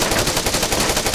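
Close, loud automatic gunfire from the ARMA 3 video game, in a fast, steady stream of rapid shots with no pauses.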